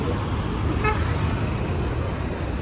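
A busy main road near the station in Mulund carries continuous traffic noise, and one short car horn toot rises briefly above the steady rumble.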